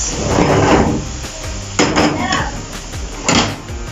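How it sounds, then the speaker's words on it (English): A spoon scrapes and clanks against a metal pot while cooked vegetables are tossed together with rice for fried rice, with irregular loud knocks and scraping strokes up close. "it's time to mix it together with our rice"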